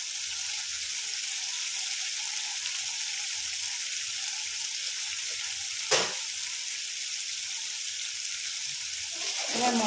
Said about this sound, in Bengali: মশলাটা আমি ভালো করে ভেজে নিচ্ছি